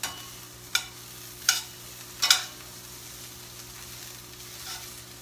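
Food sizzling in a pan for a spaghetti squash dish, with a low steady hiss and a few short scraping stirs near the start, then quieter frying alone.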